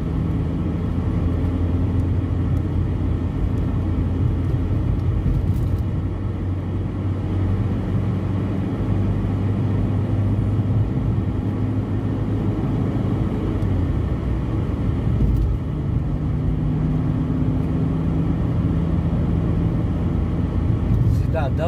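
Steady road rumble from inside a car on the Augusto Meira Filho highway between Benevides and Mosqueiro in Pará, Brazil, with passing traffic, constant engine and tyre drone throughout, and a voice talking over it.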